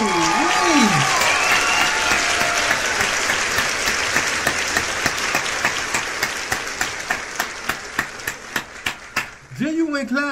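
One person claps steadily to a song, single sharp claps in an even rhythm that grow more distinct toward the end, with music under them and a voice briefly at the start and close.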